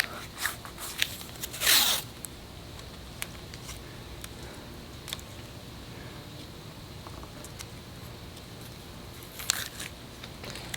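Adhesive tape rips off the roll in a short, loud burst near the start, then a second quieter tear near the end, with small taps and rustles in between, all close by during work on the windshield gasket of a BMW E39 M5.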